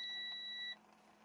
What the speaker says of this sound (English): You guys might hear the air fryer beeping.